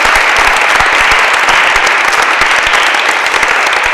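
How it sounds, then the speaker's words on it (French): Loud, dense applause from an audience cheering a children's choir at a sacred music concert, continuous clapping throughout with no talk on top. "on va applaudir pour ça aussi"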